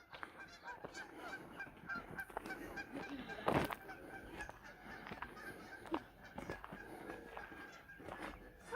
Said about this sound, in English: there's geese all over